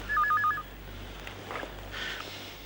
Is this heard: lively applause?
no